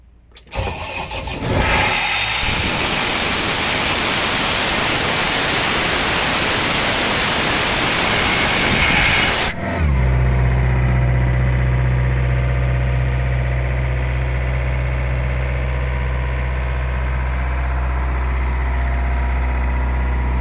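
An Isuzu diesel engine on an Ingersoll Rand 741 air compressor cranks and fires, running loud and rough with a broad roar for several seconds before settling into a steady, even low idle hum that continues to the end.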